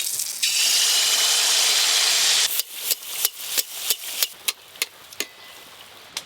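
Palm-fruit malpua and saptapuri fry in hot oil with a loud continuous hiss that gives way to a series of sharp clattering knocks.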